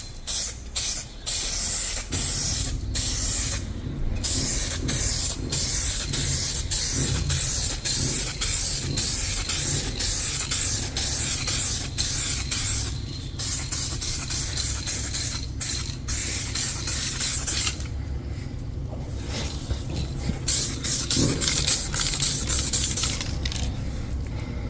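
Spray gun or can hissing in repeated bursts as a second coat of paint goes onto a car bumper, close and loud, with brief pauses between passes and no speech.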